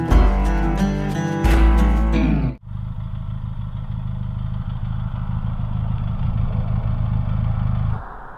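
A Benelli TRK502 motorcycle engine idles steadily and close by after a short burst of other sound, with a low, even rumble that holds for about five seconds before dropping away.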